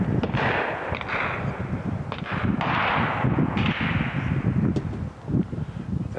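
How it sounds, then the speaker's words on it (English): Gunshots at the Bay County Shooting Range, a series of sharp cracks and booms in an irregular rhythm, some nearby and loud, others more distant, with a continuous outdoor wash underneath. "you can tell without looking, you can hear the gunshots"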